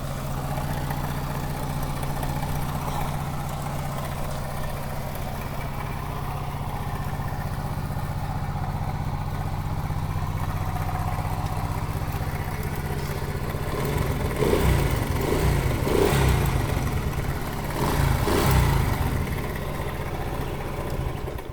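A Lifan moped fitted with an IZh motorcycle engine idles steadily with a low, even thrum for about fourteen seconds, then is revved in several short, rising bursts close by before settling back toward idle.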